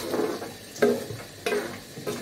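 Pre-fried fish pieces are stirred into mixed vegetables in a frying pan, bringing a steady sizzle with two or three sharper scraping stirs of the spoon against the pan, close and clear with no talking.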